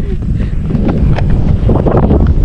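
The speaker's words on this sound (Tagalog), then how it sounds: "Yun, hangin." Strong wind buffets the microphone with a steady low rumble and gusty roar throughout.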